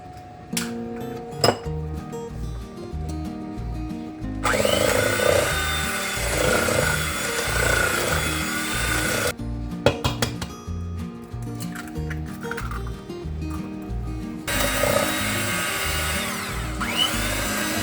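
An electric mixer beats eggs into banana bread batter in a bowl, whirring loudly in two long stretches. Clinks and knocks against the bowl come in between, with background music underneath.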